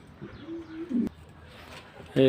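Pigeons of Lahm and Romani breeds offered for sale give a few low, close cooing calls with brief pauses, while someone talks over them and a louder sound ends the moment.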